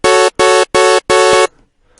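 A synth patch of two saw wave oscillators in FL Studio's 3x Osc plays four loud, buzzy, harsh sustained notes in quick succession, the last held slightly longer, then silence, with no talking.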